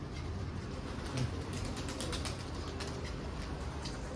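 Pigeons flutter and flap their wings landing in a busy outdoor setting, with soft cooing and constant background noise.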